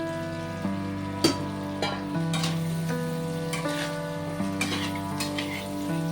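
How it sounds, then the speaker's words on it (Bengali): Potatoes sizzle and fry in oil with spices for an egg chachchari, with scraping stirs and a few sharp clinks over a steady, close frying hiss and some faint background tones. "এবার আমি এর মধ্যে আলুগুলো দিয়ে ভালো করে মশলার সাথে মিশিয়ে নেব।"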